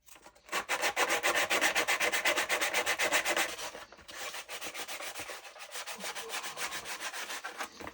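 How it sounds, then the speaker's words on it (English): Hand sanding of Dremel-cut stormtrooper armor plastic, working from rough to fine grit: steady rapid back-and-forth rubbing strokes, close and loud, with a brief pause before a slightly softer run of strokes. "we're going to sand everything we just Dremeled, starting with rough, going to fine to make everything nice and smooth"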